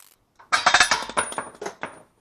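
A shop press forces a front wheel bearing out of a PT Cruiser hub, giving a quick series of sharp metallic clicks and creaking pops that trail off over about a second and a half, close by.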